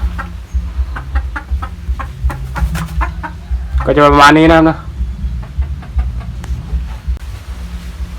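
Junglefowl clucking as they eat feed, repeated short close clucks with a brief louder call in the middle, while someone talks over them throughout.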